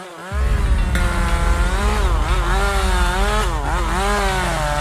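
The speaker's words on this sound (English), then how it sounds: "the guy had a chainsaw" A chainsaw runs steadily close by, its engine buzzing loud and continuous with slight pitch wavers as the throttle shifts, nothing else audible over it.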